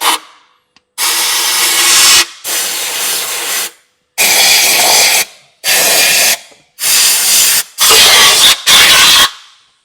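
Compressed air blasting out the bolt holes of a Nissan X-Trail QR25 engine block during head gasket work. Six loud hissing bursts of about a second each come in an irregular rhythm, close up, with short silent gaps between them.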